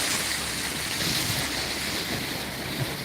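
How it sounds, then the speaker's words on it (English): A sailboat heading south from Charleston toward Saint Augustine cruises through ocean waves, giving a continuous broad wash of water and wind rushing past the hull, steady and full with no voices. "Kind of cruising through the waves."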